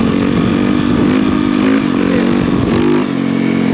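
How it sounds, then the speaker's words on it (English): A motorcycle engine roars hard and steady close up during a wheelie, its pitch holding through throttle feathering before dropping off briefly near the end as the gas eases. "So give it gas, let off, shift, give it gas."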